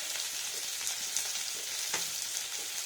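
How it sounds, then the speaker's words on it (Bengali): Ginger and spices fry steadily in hot oil in a pan while a sweet mango chutney is being made, a soft, even sizzle with occasional faint pops and light stirring scrapes. "এটা ভালো করে ফ্রাই করে নেবেন"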